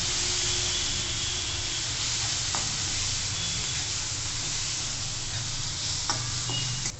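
Red pumpkin sautéeing in a pan gives a steady, close sizzling hiss throughout, with a few brief clinks as it is stirred.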